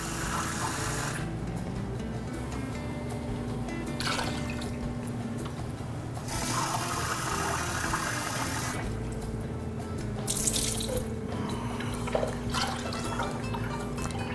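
Two cups of water for a Portuguese flan run from a tap into a container, a steady splashing rush with brief gaps, fairly close and loud, with no talking over it.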